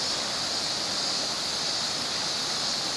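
Continuous high-pitched cicada drone over a steady rushing river background at Miyajima Gorge, filling the air evenly without pause.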